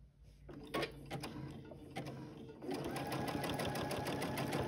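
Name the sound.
sewing machine stitching a quilted triangle table runner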